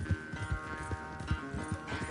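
Horse hooves clip-clop in a quick, steady rhythm, moderately close, with no talking, in Red Dead Redemption 2 during a horse race.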